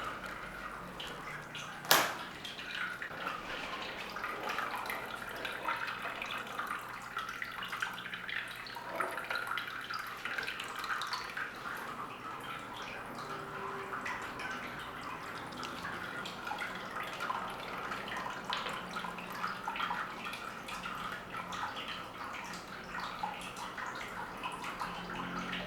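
Water steadily pours and splashes as it refills a home aquarium, a continuous close trickle with one sharp knock near the start and no voices.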